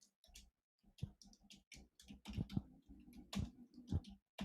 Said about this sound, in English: Just typing this out for Telegram.